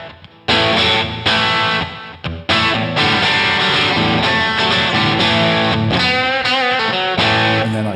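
Crunchy distorted electric guitar through a JCM 800 amp model on a Headrush Gigboard multi-effects unit, old-school rock tone played as loud, sustained chords and riffs with brief pauses, no voices.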